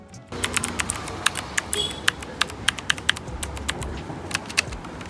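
Rapid clicking keystrokes on a mechanical keyboard at a secondhand market stall, a close run of sharp, irregular clacks over a low, busy background rumble.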